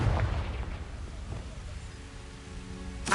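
Booming blast of the Confringo spell in Hogwarts Legacy, a deep rumbling explosion that swells at the start, decays slowly across the clip, and ends with a sharp burst.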